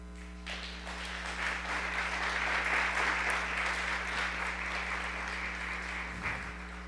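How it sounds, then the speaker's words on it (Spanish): A church congregation breaks into sustained applause during a Spanish-language sermon, a steady dense wash of clapping lasting several seconds over a low electrical hum, with no talking. "¿Por qué no damos un aplauso al Señor?"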